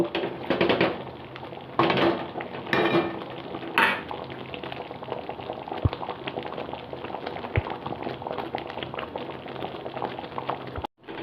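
Mango pulp being cooked down into aamsotto, boiling steadily on a medium flame, a continuous bubbling simmer with occasional stirring and a few sharp utensil knocks, no voices.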